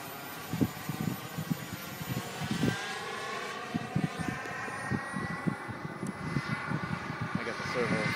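A BVM Maverick RAM 500 RC turbine jet in flight, heard as a continuous whining jet roar with slowly shifting pitch, while people talk nearby throughout.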